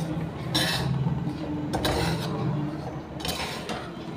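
Flour being stirred and roasted in a pan over low heat for laddoos, steady scraping of a spoon against metal with a few louder clinks and no talking.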